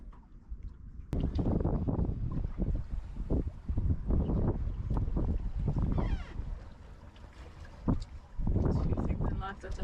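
A sailboat running under full sail in a gentle morning breeze, with steady wind and water noise over the microphone and people talking at intervals throughout.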